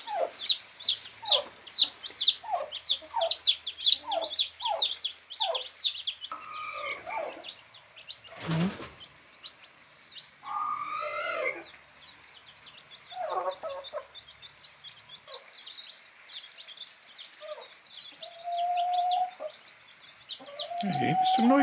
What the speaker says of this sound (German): Der Pute, der habe ich jetzt ein neues Nest gebaut, hier unten.